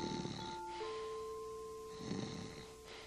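A voice imitates snoring in two slow, drawn-out breaths with a pause between them, soft and faint, playful pretend sleep sounds from a Sesame Street play-along segment over a quiet musical tone.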